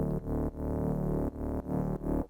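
Granular synth bass built from a single sample, with slowly rising automation; a sustained, harmonically rich low tone pulses in short chopped phrases separated by brief gaps, played alone.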